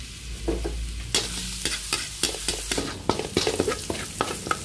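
Garlic frying in a hot pan while being stirred, a steady sizzle punctuated by repeated scraping and clinking strokes of a utensil, close and fairly loud.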